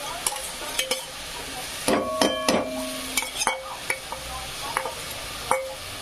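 Onion browning in a pan with tomato puree for paneer tikka masala, a soft sizzle under repeated clinks and scrapes of a metal spoon stirring against the pan, close and clear.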